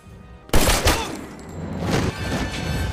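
A sudden, loud volley of gunfire erupts in an action-film shootout, with sharp rapid shots and heavy impacts up close. The burst is followed by continued rumbling fire and crashes, and no one speaks.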